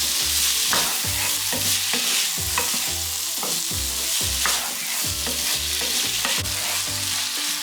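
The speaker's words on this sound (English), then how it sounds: "Then our pineapple. Then mix, mix, mix." Pineapple shrimp fried rice being stirred in a pan, with steady repeated scraping strokes of the spatula over a continuous close sizzle of frying, no talking.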